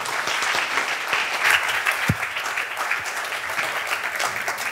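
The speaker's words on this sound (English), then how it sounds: "please join me for a round of applause" Sustained applause from an audience after a presentation by a German parliament member, steady dense clapping throughout with no talk over it.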